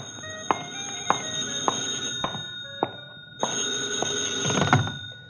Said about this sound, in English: Hey, maybe that's your call now.